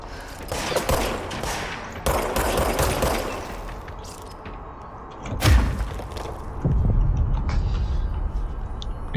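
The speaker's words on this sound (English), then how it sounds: "Oh, he's shooting too." Bursts of enemy gunfire and heavy impacts ring out in the Control video game, loud rapid volleys separated by brief lulls, with a thudding hit midway and dense firing toward the end.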